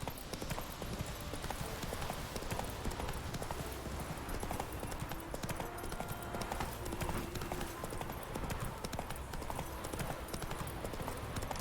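The horse Roach gallops in The Witcher 3, a fast continuous clip-clop of hooves with game ambience, loud and steady throughout.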